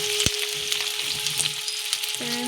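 Masala for chili chicken fries in a home pan with a dense, continuous hissing sizzle. A faint steady tone runs underneath, and no one speaks.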